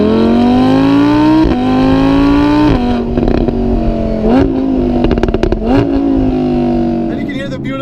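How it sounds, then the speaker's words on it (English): An Audi R8 with a naturally aspirated V10 revs loudly nearby, its pitch climbing in several sharp surges with crackling between them before it settles back to idle. "you can hear the beautiful V10 scream"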